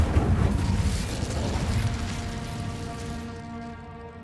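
The Incendio fire spell cast in Hogwarts Legacy gives a loud fiery burst with deep rumbling that slowly fades into lingering ringing tones.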